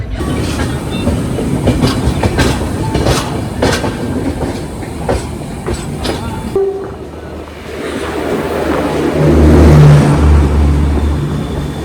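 Pondicherry Howrah SF Express train running on the line, a loud rattling clatter of wagons passing close by, then a lower rumbling drone as it continues.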